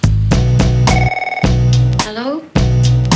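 A telephone rings in repeated loud bursts separated by short gaps, with a steady electronic warble in between and a brief rising chirp before the last burst.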